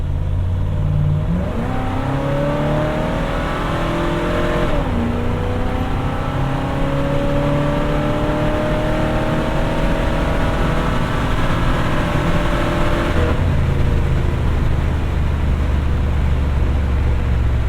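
A 1970 Chevelle SS accelerating hard on a track, its engine note climbing through gear changes in loud, sustained sweeps, with a brief lift-off around the middle before pulling again.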